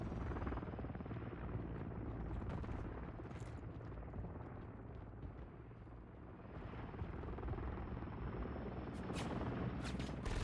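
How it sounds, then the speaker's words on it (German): In Call of Duty MW3 multiplayer, a helicopter thrums continuously with a steady rotor drone, joined by scattered sharp gunfire cracks. "Boah, jetzt ist da so ein scheiß Heli auch noch."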